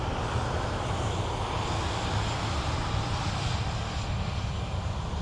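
An aircraft at Dublin Airport produces a steady, fairly faint engine roar that holds evenly throughout with no pauses or speech.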